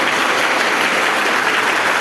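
Students in a classroom break into loud, dense clapping that holds steady and close, filling the short moment without any voices.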